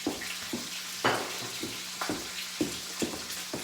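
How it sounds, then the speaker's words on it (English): Chuck eye steak searing in a hot pan, a soft steady sizzle with a few louder crackling pops at intervals, fairly quiet and close. "We're going to do a 3-minute sear on each side."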